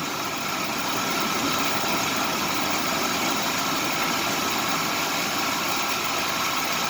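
A car engine idles steadily from a cold start, a constant close, even rumble and hum that holds without change and with no talk.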